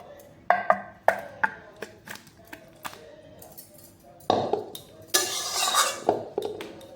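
Cooked taro leaves are tipped and scraped out of a metal pan with a spoon, giving sharp clinks and knocks early on, then a denser rush of scraping near the end. No one speaks.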